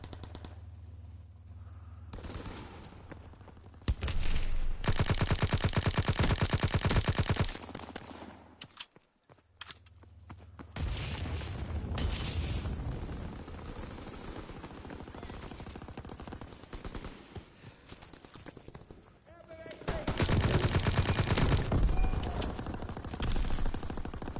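Bursts of rapid automatic gunfire in Call of Duty: WWII, loud and sustained, broken by short pauses and a sudden quiet gap, with heavy rumbling between volleys.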